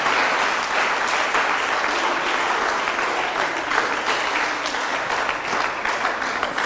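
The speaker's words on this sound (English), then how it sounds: "Let's give them a round of applause once again." A school audience at a national Bible quiz competition in Accra claps loudly and steadily for the competing girls' school teams, a sustained wash of applause with no talk over it.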